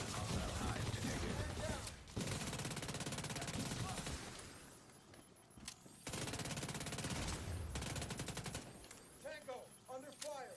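Heavy gunfire in The Division 2 comes in rapid automatic bursts, loud and close, split by short pauses, with a few sharp single shots and mechanical clatter toward the end.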